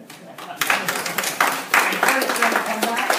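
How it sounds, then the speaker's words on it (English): Audience applauding dancers at a ring house performance, a dense burst of clapping rising sharply after a quiet start and holding steady, loud and close throughout. "maybe can give them another round of applause"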